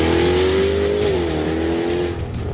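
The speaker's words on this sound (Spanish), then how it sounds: "Quiero escuchar el escape cuando pasemos a carretera abierta." A Jaguar's engine roars loudly and steadily, its exhaust note rising in pitch as it accelerates on an open road, then easing slightly as it shifts.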